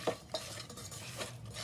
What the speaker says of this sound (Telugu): ఇప్పుడు బాగా కలుపుకోవాలి.